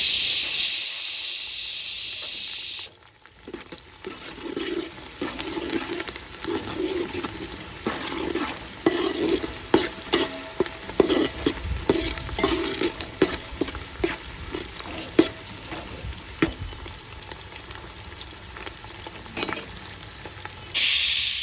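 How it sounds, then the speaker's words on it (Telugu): Onions frying in a pan for chicken fry piece biryani, with mint and coriander added: a steady close sizzle and hiss broken by scraping stirring strokes, with a louder hiss at the start and end and no talking. "ఉల్లిగడ్డ బాగా ఫ్రై అయింది."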